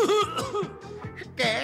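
Short bursts of coughing in a Spanish-language children's song setting, close and loud, a few rough voiced hacks in quick succession that may be a performer voicing the sound.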